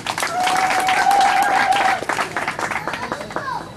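A crowd claps at an investiture ceremony for a provincial youth committee: steady, full applause with a brief tonal whoop over it early on, then thinning into looser, uneven claps toward the end.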